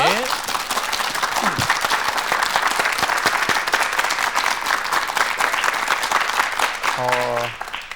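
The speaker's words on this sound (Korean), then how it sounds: "박수로 강의 청해주세요." Studio audience applause on a Korean morning talk show, a full, steady wash of many hands clapping for several seconds before fading, with a brief voice at the start and a short musical sting near the end.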